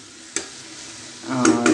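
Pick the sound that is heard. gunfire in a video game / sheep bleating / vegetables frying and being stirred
vegetables frying and being stirred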